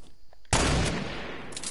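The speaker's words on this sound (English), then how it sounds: "Oh, I'm being sniped right now." A sudden loud gunshot burst from a sniper rifle in a video game cracks out after a faint quiet lead-in, followed by a sustained noisy echo and a brief second report near the end.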